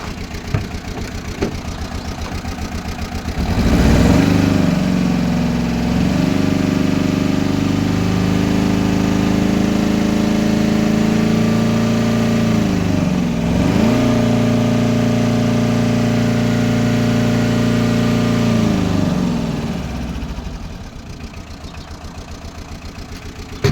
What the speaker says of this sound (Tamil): இந்த வண்டியோட இன்ஜினை ரேஸ் பண்ணி பார்த்துடலாம்